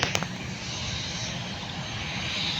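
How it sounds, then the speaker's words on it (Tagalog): An airplane departs and passes overhead with a steady, broad engine roar at moderate loudness that holds for the whole stretch, with no one talking. "paalis na aeroplano palipad pa siya dadaan yan dito"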